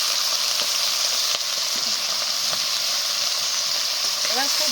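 Bottle gourd peels fry in a hot pan with an unbroken loud sizzle and hiss, joined by occasional scraping stirs and faint clinks throughout.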